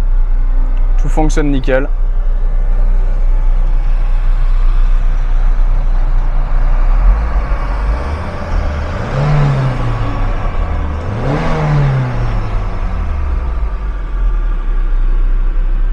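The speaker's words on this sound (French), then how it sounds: "Tu vois là, elle tourne au ralenti, elle est à 1000 tours." A turbocharged car engine idles smoothly at 1000 rpm, a loud, steady low hum with wavering tones that swell and fall, while someone talks over it.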